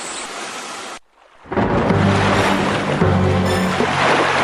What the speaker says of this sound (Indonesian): Sepertinya akan terjadi badai.